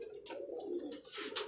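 Pigeons kept on a rooftop in Karachi coo softly and repeatedly at close range, their low rolling calls continuing throughout with no talk.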